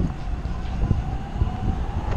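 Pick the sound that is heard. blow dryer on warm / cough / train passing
train passing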